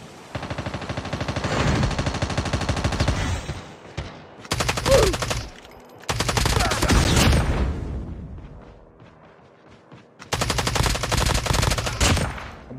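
Gunfire in the Call of Duty Mobile battle royale video game, with long bursts of rapid automatic fire broken by short pauses, loud and close, with no talk over it.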